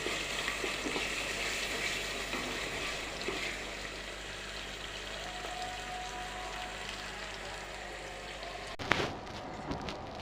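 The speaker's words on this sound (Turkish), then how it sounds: "Evet soğanım, soğanım etimi kavuruyorum." Onions and meat frying in a pan, a steady, soft sizzle and crackle that continues evenly throughout, ending in a couple of brief clatters as the pan or a utensil is handled.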